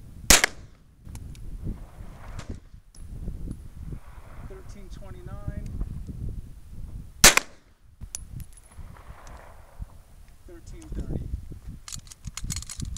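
Strike One LRC pistol fitted with a seven-inch-longer barrel, fired as two sharp, loud single shots a few seconds apart, with a low background rumble and quiet activity between them.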